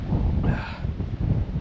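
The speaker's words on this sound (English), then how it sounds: "The wind is very, very strong." Strong wind buffeting the microphone on the exposed hilltop of Arthur's Seat in Edinburgh, a loud continuous roar with gusty rumble.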